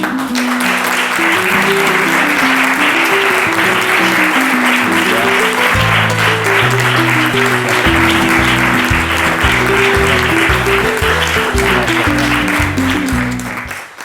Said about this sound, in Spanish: Un aplauso muy fuerte para José Sánchez Montes.